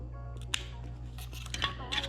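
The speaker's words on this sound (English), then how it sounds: "Then we're gonna cut this right here, right underneath this smart cord." Scissors or cutters snip through a cord beneath a smart cord while a radar detector is installed in a Porsche Macan; a few sharp close snips and clicks stand over a steady low hum.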